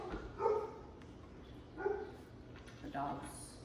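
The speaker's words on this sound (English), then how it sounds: "The dogs, they're outside peeing and pooping, but they're really bullying the dog next door." Dogs bark outdoors in a backyard next to a neighbour's dog, giving three separate barks spaced about a second and a half apart, heard at a distance and fairly faint against a quiet background.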